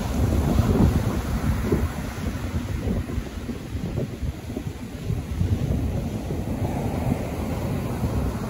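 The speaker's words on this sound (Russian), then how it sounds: "Волны весной в Алании бывают достаточно часто." Spring sea waves at Alanya rolling onto the shore, a low rumbling wash that swells and recedes, heavily buffeted by wind against the microphone, with no talk.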